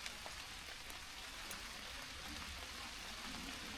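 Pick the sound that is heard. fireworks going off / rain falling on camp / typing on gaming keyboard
rain falling on camp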